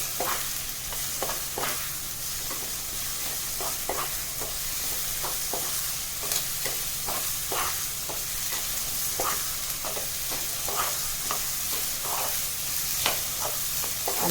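Vegetables with salt and sambhar masala stirred in a hot pan, a continuous soft sizzle under regular scraping and clinking strokes of a spoon, steady and close, with no talking.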